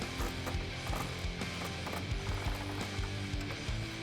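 Quick, continuous clicking of a ratchet with a swivel extension and 7 socket backing off a bolt on a 2018-2020 Mustang reverse light mount, close and crisp, with steady rapid ticks.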